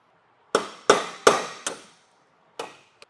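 A hammer strikes a metal punch to drive out the pin of a trailer jack's sidewind handle, giving four sharp ringing metallic whacks in quick succession, then a pause, one more blow and a faint final tap, all close and alone.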